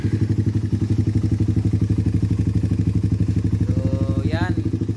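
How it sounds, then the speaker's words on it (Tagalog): A stock Raider 150 motorcycle idles with a noisy Keihin carburetor, giving a steady, fast, close-up engine clatter. A brief chirping squeal rises near the end. "Maingay lang yung carb ni Pops to."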